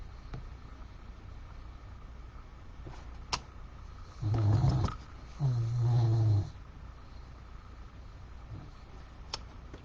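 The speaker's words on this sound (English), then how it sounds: "I hear you snoring over there." Two loud, low snores, one after the other in the middle of an otherwise quiet room, each a rough rumbling breath lasting about a second.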